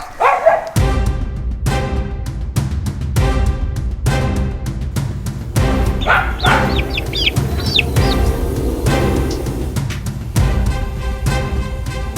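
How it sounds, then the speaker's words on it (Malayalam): A dog barks loudly and repeatedly in a steady rhythm of sharp, close barks, along with clucking chickens and other bird calls in the background, during a cobra rescue, with no talking. "ഈ നായുടെ കുര അറിയാലോ, ഡോഗിൻ്റെ കുര നമുക്കൊന്നും പറയാൻ പറ്റില്ല"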